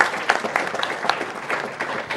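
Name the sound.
clapping from the audience at a speedrun marathon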